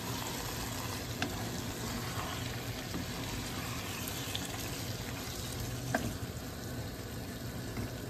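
Continuous sizzling of peeled, finely chopped tomatoes frying in a hot pan, a dense steady crackle with faint occasional clinks, no talking.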